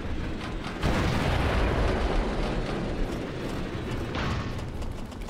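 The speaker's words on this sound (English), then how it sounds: "Go, cannon, go." Cannon fire in a fantasy action video game, heard as a dense, loud, rumbling blast that sustains with a roaring, explosive texture across the clip, with no talk.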